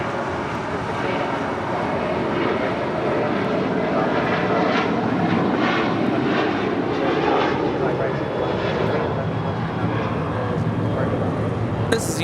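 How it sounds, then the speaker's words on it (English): A United Airlines Boeing 737-800 takes off from LAX on a departure to San Francisco, the jet's roar swelling and staying loud and steady with pulsing surges, with quiet talk in the background. "This is United Airlines 2480 taking off to San Francisco. 737-800."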